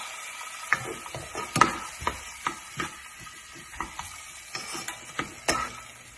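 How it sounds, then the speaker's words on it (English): Tomato sauce fries in a pan while being stirred constantly, giving a soft sizzle broken by repeated scraping and clacking strokes of the spoon, close and fairly quiet, with no talking. "Don't forget to stir constantly because this fries fairly quickly, so we don't want it to burn."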